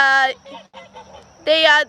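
Geese on a family homestead honk loudly in two bursts, near and harsh, with a quieter stretch of low goose calls between them.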